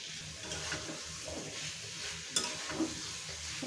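Fish curry with potato and green mango being sautéed in oil, a close hissing sizzle with soft stirring scrapes and a couple of sharp clinks of utensil on pan, no voices.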